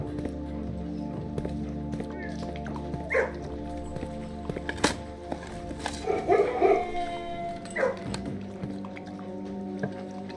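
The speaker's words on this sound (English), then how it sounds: "You pet the dog, you get good luck." A dog in the game Blue Prince barks a few times in short bursts at mid-distance, over a steady background hum and music.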